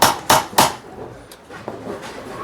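Three sharp metallic hammer blows in quick succession, close and loud, peening over a motor shaft on a Brunswick Pinball Wizard gearbox, followed by quieter handling noise.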